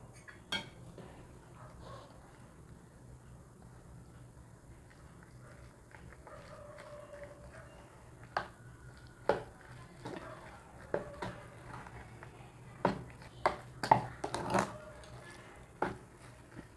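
A spoon stirs thick wheat-flour batter in a bowl, soft scraping at first, then irregular clinks and knocks against the sides growing louder.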